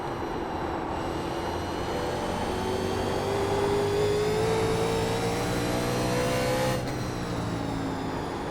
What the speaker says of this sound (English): I can hear the car behind chipping out on the straight.